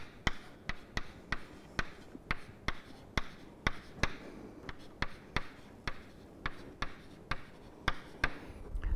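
Someone writes vector equations by hand, producing a steady series of crisp, close taps and short scratches of the writing tool striking and dragging on the surface, with no voices.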